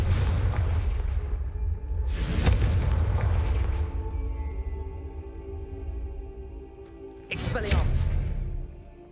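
Confringo spell explosions in the Hogwarts Legacy video game: three heavy booming blasts, one at the start, another soon after and a third later, each decaying into a low rumble, with voices present.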